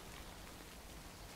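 Steady rain pours in the game Death Stranding, a dense, even hiss of drops falling without a break, moderately loud and with no voices over it.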